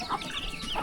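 Free-range village chickens in a remote mountain valley, clucking in short, close, fairly loud bursts with no talk over them.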